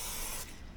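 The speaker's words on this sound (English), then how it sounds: "I'm just going to give this a spray" A spray bottle hisses in one steady burst as a mechanical part is cleaned in a shed before reassembly; the close, loud spray cuts off partway through, leaving a faint residual hiss.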